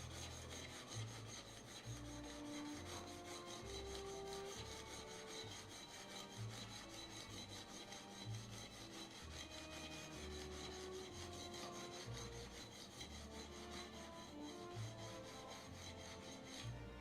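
A card scraper works over a wooden door during restoration, making a quiet, rhythmic rasping stroke repeated at an even pace, close but faint, with no talk.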